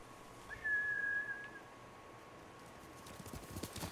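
Trained samurai horses return in Ghost of Tsushima, announced by a clear whistle followed by faint hoofbeats approaching over a quiet outdoor ambience.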